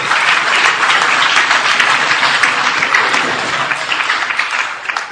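Loud, sustained applause from an audience of students and guests at a school results and certificate event in Aurangabad, many hands clapping densely and evenly for about five seconds without speech.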